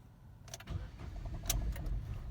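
A 2020 Ford Ka SE Plus being started with the key held, the starter cranking and the engine catching with a few sharp bursts, then settling into a low rough idle, fairly quiet and with no talk.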